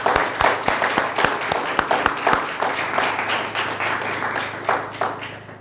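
A church congregation at a Sunday service claps together in a steady rhythmic beat, with sharp, loud, evenly spaced claps blending into a fuller applause that carries on for several seconds.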